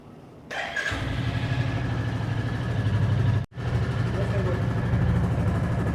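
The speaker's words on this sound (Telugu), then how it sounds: "బండి అయితే క్రాంక్ చేస్తాను ఇప్పుడు చూడండి" A 2024 Royal Enfield Classic 350 motorcycle engine cranks and catches, settling into a steady close-up idle with a brief cut midway before running on.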